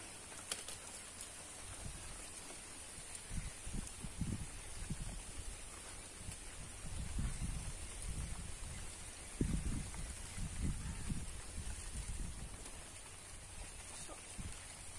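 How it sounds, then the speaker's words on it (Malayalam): Light rain begins to fall outdoors beside water during a Kerala fishing trip, a soft steady patter with scattered nearby drops and a faint low rumble, staying fairly quiet throughout. "അപ്പൊ മഴ ചാര തുടങ്ങിയിട്ടുണ്ട്."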